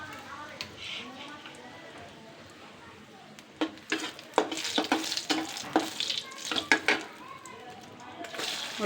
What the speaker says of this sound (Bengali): তেল বসিয়ে দিলাম পাট শাক বাগারের জন্য। মরিচ দিয়ে দিব, একটু শুকনো মরিচ দিয়ে বাগার দিব।